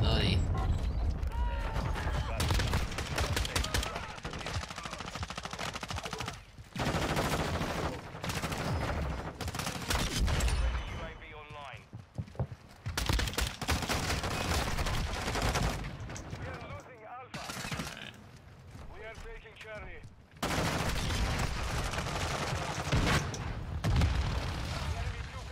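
Bursts of gunfire from the video game Modern Warfare II, rapid shots and booms repeating through most of the stretch with brief pauses, loud and dense over game sound and mechanical clatter.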